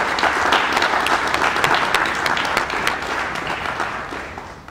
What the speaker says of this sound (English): Please join me now with a round of applause welcoming our candidates